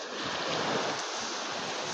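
Sea waves wash steadily onto the beach at low tide in Lian, Batangas, a broad continuous rush of surf with light wind noise and no voices.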